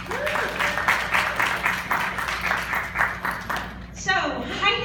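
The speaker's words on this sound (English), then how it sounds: "give a round of applause for women" An audience at a women-in-business celebration event applauds in a brisk, steady round of clapping. It fades after a few seconds as a voice speaks.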